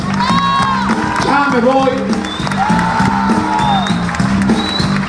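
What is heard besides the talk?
audience applauding and cheering at a concert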